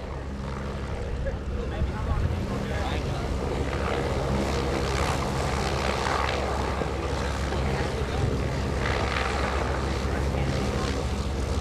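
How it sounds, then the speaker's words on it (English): Propeller planes of an aerobatic team flying close together at a lakeside airshow on a windy day, a steady broad engine drone with gusting wind noise, continuous throughout. "the three AC-52s will actually fly right next to each other"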